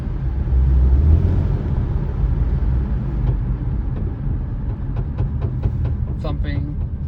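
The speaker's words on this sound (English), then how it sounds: "Inside car noises." A steady low rumble fills the cabin of a moving car, with a few soft rhythmic ticks and a short tone near the end, all at a constant, close level.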